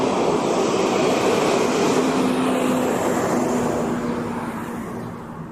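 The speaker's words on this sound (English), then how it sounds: "here comes a truck" A truck passes through a park with a steady, loud broadband rumble that gradually fades as it moves away, with no one talking.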